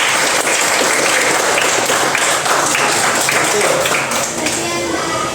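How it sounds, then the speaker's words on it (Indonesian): A classroom audience applauds after a student group's discussion presentation, steady dense clapping filling the whole stretch at close range with no pauses. "Jadi beri aplaus dulu ya."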